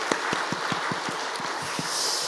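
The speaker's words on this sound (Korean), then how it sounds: "우리 박수 한번 다시 한번 치겠습니다." Applause in a Korean church during a Sunday afternoon service, moderate and somewhat sparse, with distinct individual claps standing out in an irregular beat over a soft room wash.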